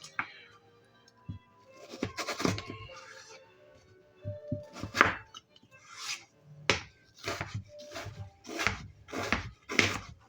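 Knife slicing a pattypan squash into thin strips on a board for a vegetable tart, a series of sharp, close cuts with a few louder knocks, alone with no talking.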